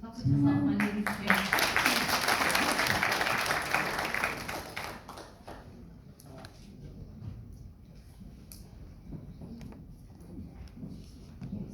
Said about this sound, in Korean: 박수 쳐서 환영해 주십시오.